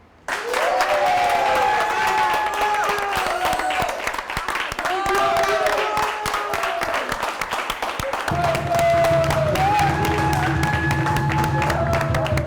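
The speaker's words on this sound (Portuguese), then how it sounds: "Uma salva de palmas para Di Catarino." An audience at a poetry performance claps loudly and continuously in a thick, sustained round of applause, while a voice speaks over the clapping throughout.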